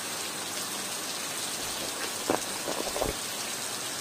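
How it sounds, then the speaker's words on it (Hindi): Heavy monsoon rain pouring down steadily in a flooded village, a dense hiss of drops hitting surfaces with a few louder splashes or thumps near the end, no voices. "बारिश का मज़ा ले रहा है, हम भी बारिश का मज़ा लेने निकले हैं।"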